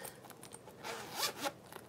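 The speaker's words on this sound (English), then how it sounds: "zip this one. Unzip this one." A zipper on a small light pink bag is pulled closed and open in quick strokes, dry ripping runs up close with no talking.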